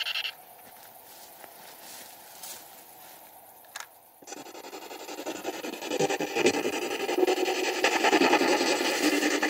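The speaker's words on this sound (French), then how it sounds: "Alors, le bruit original de la PSB7, c'est ça." PSB7 spirit box radio scanning through stations, giving choppy bursts of static and hiss that shift abruptly, quieter at first then louder and denser broadband noise in the second half, with no talk.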